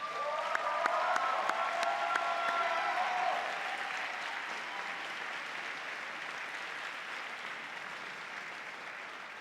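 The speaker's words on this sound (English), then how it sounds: "So let's give them applause as well," A graduation ceremony crowd at Richmond University applauds steadily, a dense clapping roar that is loudest at first and then slowly thins while it continues.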